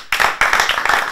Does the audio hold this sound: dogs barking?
no